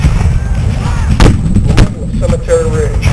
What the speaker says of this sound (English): The fire from the ends from the artillery makes the men crowd the center.